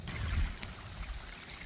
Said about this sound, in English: So the water's coming out from here, makes a big curve, and it dumps into these rocks for erosion protection